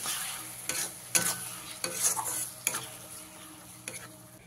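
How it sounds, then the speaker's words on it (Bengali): Tomato paste and spices fry in a pan for a pointed gourd korma, a quiet sizzle under a handful of distinct spoon scrapes and clinks against the pan, spaced irregularly across a few seconds. "টমেটো পেস্টটা দিয়ে মশলার সাথে খুব ভালো করে কষিয়ে নিতে হবে।"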